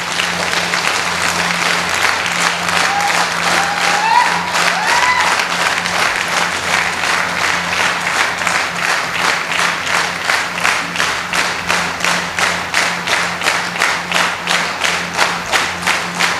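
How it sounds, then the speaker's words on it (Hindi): An audience claps in applause at a direct selling business seminar, dense steady clapping that settles into a fast rhythmic unison beat toward the end. "अब आप लोगों को जीतलाल जी का सम्मान करना है ताली बजा के"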